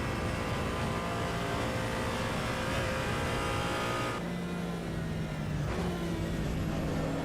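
A race car engine revs in the Assetto Corsa Evo driving game, a loud sustained high-pitched engine howl with shifting gear tones, dropping and changing pitch near the end, with no talking.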